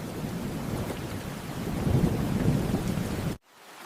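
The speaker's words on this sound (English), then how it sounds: "It is starting to rain." Heavy rain pours continuously, with a low rumble of thunder building underneath. The sound cuts out abruptly near the end and then resumes faintly.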